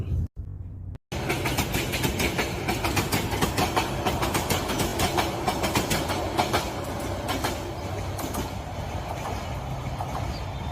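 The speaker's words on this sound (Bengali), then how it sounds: "সোনার বাংলা এক্সপ্রেস ট্রেনটি চট্টগ্রাম রেল স্টেশন থেকে ছেড়ে যায় ঢাকার উদ্দেশ্যে বিকাল পাঁচটায়" The Sonar Bangla Express passes at speed near Chittagong junction cabin under the Dewanhat bridge. After a brief gap, a loud, close roar of rushing wheels and rapid rhythmic clatter begins and runs on steadily to the end.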